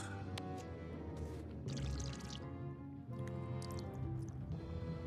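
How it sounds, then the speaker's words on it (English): Liquid from a mug pours down a grate in the adventure game Return to Monkey Island, a quiet splashing pour with drips over soft background music, without talk. "And then if we just pour that down the grate."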